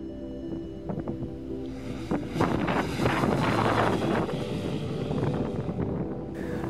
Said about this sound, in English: And how it sounds flying past.